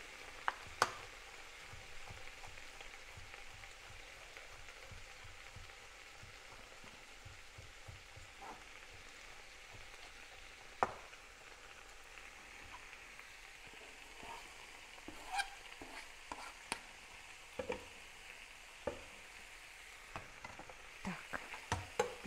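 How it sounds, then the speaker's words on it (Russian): A low, steady sizzle of mushrooms and garlic frying in a pan for Polish mushroom soup, faint and close, broken by occasional clicks and scrapes of stirring, with no speech. "и тоже чуть-чуть их как бы обжарим, чтобы они сок пустили"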